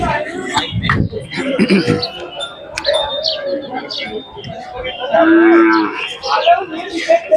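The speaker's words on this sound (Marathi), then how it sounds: "खिल्लार दुधाची गाय आहे" A large Khillar dairy cow at the Sangola cattle market in Solapur gives one loud, drawn-out moo midway, surrounded by busy market chatter and people talking nearby.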